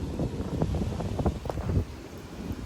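A strong wind gust during a severe thunderstorm roars against the microphone as a dense, rumbling buffeting, steady and loud for a couple of seconds before easing slightly.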